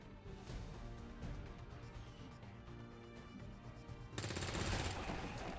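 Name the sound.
gunfire in the video game XCOM 2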